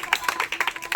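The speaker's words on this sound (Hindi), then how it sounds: "ताली ताली, बहुत बढ़िया।" A handful of children clap in quick, uneven bursts at an eco club school performance, fairly faint and close, with no talking over it.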